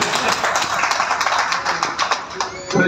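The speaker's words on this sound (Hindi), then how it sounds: "तालियों की गड़गड़ाहट आती रहनी चाहिए भाई" Audience applause at a trade association convention in Uttar Pradesh, a brisk patter of clapping hands from a moderately sized crowd that rises and falls over a few seconds.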